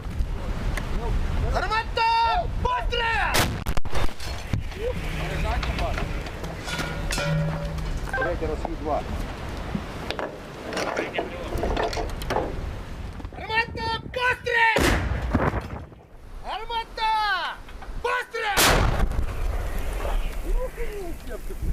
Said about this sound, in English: They are firing 152mm howitzers.